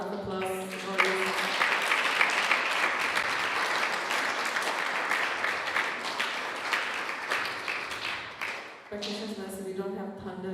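A large live audience at a special program applauds loudly and continuously for several seconds, dense clapping that fades briefly before a voice speaks.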